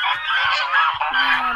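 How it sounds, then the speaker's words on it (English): Loud, continuous honking and quacking from a group of waterfowl feeding, close by and dense, with overlapping calls and no talk. "Wow, ducks are eating."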